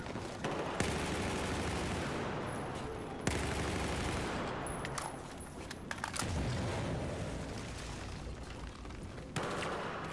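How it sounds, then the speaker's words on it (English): Gunfire in Battlefield 4 hardcore Domination on the Operation Locker map, with dense, loud bursts of automatic fire and booming shots filling the whole stretch. "Oh, I'm getting shot at in the back."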